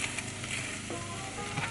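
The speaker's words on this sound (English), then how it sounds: "So I'm also gonna add a bit of garlic to that onion." Garlic and onion fry steadily in a pan, a close, even sizzle with small pops and crackles, with no voice over it.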